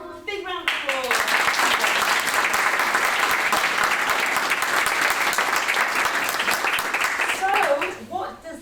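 A school audience at a Year 4 Christmas sharing session breaks into a long, loud burst of steady applause that swells quickly, holds for several seconds, then tapers off, with a few children's voices near the start and end.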